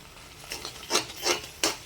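Mango and grated coconut are stirred in ghee in a pan, heard as three or four quick scraping strokes of a utensil over a soft sizzle.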